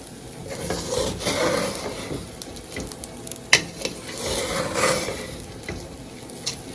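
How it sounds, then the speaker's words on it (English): A utensil scrapes and stirs rice toasting with onions, garlic and thyme on the bottom of a pan, making rhythmic, close rasping strokes over a soft sizzle. "I'm gonna just continue to scrape the bottom of the pan"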